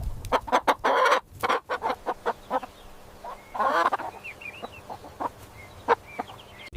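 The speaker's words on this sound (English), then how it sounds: "It's a chicken." A chicken clucks in a string of short, sharp calls with two louder squawking bursts, close and alone, with no voices.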